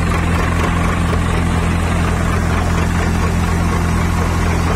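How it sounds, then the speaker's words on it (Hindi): Swaraj 744 XT tractor driving a thresher through its normal single PTO, a steady loud droning engine and machine roar with constant low rumble and no pauses. "नॉर्मल पीडियो में कर रहा है ट्रैक्टर।"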